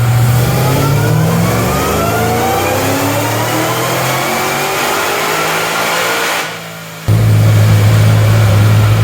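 A Cadillac CTS-V wagon engine with ignition timing raised to 11 degrees, loud and close as it pulls up through the revs in a rising drone, dips briefly, then settles into a deep steady roar.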